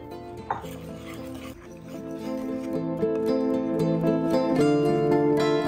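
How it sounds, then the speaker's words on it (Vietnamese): Dry flour mixed with baking powder being stirred into wet batter for blueberry baking, a soft scraping and tapping of utensil against bowl, steady and close, beneath a low humming background. "Rồi mình sẽ bỏ vô cái hỗn hợp khô này vô hỗn hợp nước nha."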